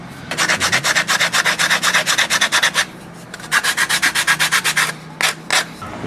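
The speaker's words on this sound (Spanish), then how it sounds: "vamos a lijar por dentro para sacar lo que tiene el carrizo naturalmente" Sandpaper rasps inside a hollow cane reed flute in rapid, rhythmic back-and-forth strokes, close and loud, with a short pause midway before the scraping resumes.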